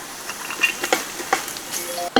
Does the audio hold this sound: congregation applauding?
no